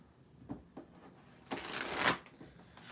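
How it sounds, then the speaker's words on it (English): Tarot cards are shuffled by hand in a few short riffles and slides, then one louder, longer burst of card flutter, close and clear with no talking. "a couple little extra cards so far in the shuffle and the mix."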